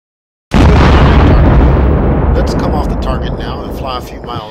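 An AGM-65 Maverick missile in the DCS A-10C game fires after silence as a sudden, very loud roaring blast that rumbles on for seconds, with faint radio-style chatter near the end.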